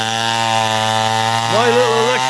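A saw rips through lumber with a steady, loud motor drone carrying strong tonal harmonics, its pitch dipping and wavering near the end as the blade bites into the wood.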